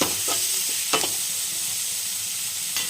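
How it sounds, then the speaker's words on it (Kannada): Onions and garlic fry in a pan with a constant loud hissing sizzle, punctuated by a few sharp scraping stirs of a spatula, close up and with no talking. "ಈರುಳ್ಳಿ ಹಾಕಿ, ಈರುಳ್ಳಿ ಫ್ರೈ ಮಾಡ್ಕೊಬೇಕು"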